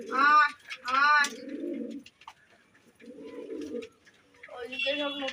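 Pigeons coo in soft, throaty bursts while being fed, with a few clear cooing phrases separated by quiet gaps and a voice calling to the birds.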